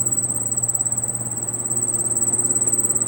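A Carrier split AC indoor unit makes a steady, high-pitched, cricket-like chirping that pulses continuously over a low mechanical hum, with no voices.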